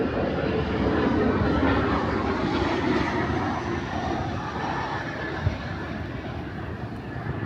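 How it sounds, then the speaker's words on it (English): A low-flying airplane passes over the streets of Jackson Heights, Queens, a loud broad engine roar that peaks early and slowly fades, with a brief knock near the end. "Too close to the planes."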